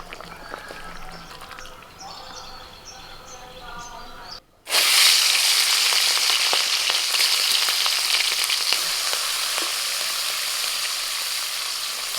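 Prawns lightly frying in a pan for a prawn and kohlrabi curry, a steady loud hiss and sizzle that runs almost unbroken, briefly cut before swelling up again, with faint kitchen clatter underneath.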